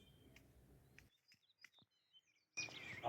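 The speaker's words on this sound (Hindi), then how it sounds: "आपको बहुत सारे बर्ड्स की सॉन्ग कॉल्स सुनाई दे रही होगी।" Birds call around a jujube (ber) shrub, with several short chirps and tweets scattered through a quiet stretch, framed by louder outdoor background noise at the start and end.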